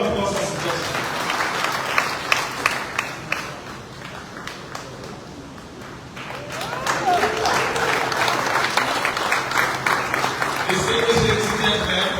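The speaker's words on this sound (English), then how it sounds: "A round of applause for suggestion" Audience applause at an award ceremony where a Lifetime Achievement Award goes to the President of Sierra Leone, Julius Maada Bio; dense, sustained clapping fills the hall throughout, dipping briefly midway before swelling again, with voices mixed in.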